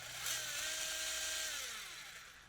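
A Furitek Pixi ESC drives a small RC brushless motor at a capped RPM with a high electric whine that spins up, holds steady and winds down over a couple of seconds, loud and close.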